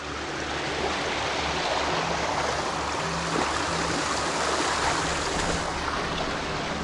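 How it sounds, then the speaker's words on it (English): Massive waterfalls in New Zealand's far south, a loud, steady rushing roar of falling water that fills the whole clip without pause, with no talking. "Look at these massive waterfalls"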